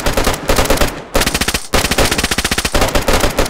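Automatic gunfire in the video game DayZ rattles in loud rapid bursts, with two brief pauses between sustained volleys and no voices over it.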